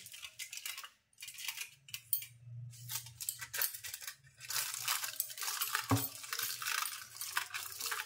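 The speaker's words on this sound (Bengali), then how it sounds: "অ্যালুমিনিয়াম পেপার নিয়েছি, আমি সবগুলোতে ভালোভাবে এরকমভাবে মুখটা বন্ধ করে দিচ্ছি" Aluminium foil being crimped and pressed over the mouths of containers of pistachio ice cream, a close, crinkly rustling and crunching in bursts with brief pauses and a sharp tap midway, no talk.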